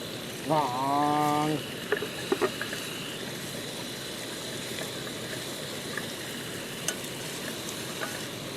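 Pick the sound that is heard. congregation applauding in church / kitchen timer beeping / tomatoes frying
tomatoes frying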